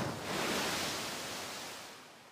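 Waves break and wash back on a quiet shore, a soft, even surge of surf that rises and then slowly recedes, faint and steady with no voices.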